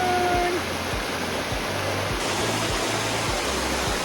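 A steady broadband rush of falling water from a waterfall in the Blue Ridge Mountains near Ellijay, Georgia, continuous and fairly loud, with faint low thumps underneath.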